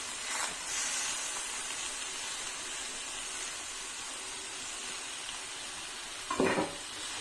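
Chopped beetroot and carrot sautéing in a pan with spices give a steady, quiet sizzle and hiss, with a short louder clatter of stirring near the end.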